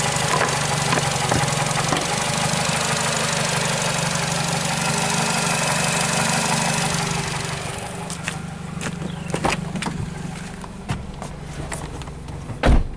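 Nissan car engine idling with a seized A/C clutch, a steady close rumble that cuts out partway through, leaving a few clicks and knocks afterward.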